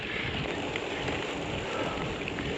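Steady rain falls during an ultra-distance cycling ride over a mountain pass, giving a continuous hiss with light wind noise and no talk.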